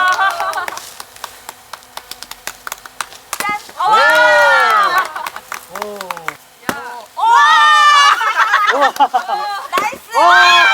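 A small group of friends cheering and calling out loudly at a weekend firewood splitting game in Yeoncheon, with sharp chopping hits between bursts of excited voices.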